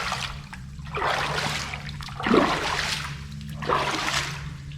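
Water runs and trickles through a tunnel beneath a city, a continuous close splashing flow that swells in several surges, with no talk.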